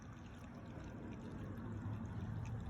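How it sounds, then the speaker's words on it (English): Coolant poured into the radiator of a 1992 Chevy Caprice makes a steady, close, gurgling wash of liquid that runs unbroken for a few seconds, with no talking. "Last thing I'm doing is pouring this stuff in here"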